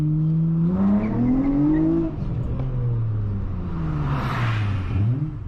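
A 7th-generation Honda Accord V6 coupe with a six-speed manual revs hard from inside the cabin, engine pitch climbing steadily, dropping sharply at a gear change, then rising again as it pulls.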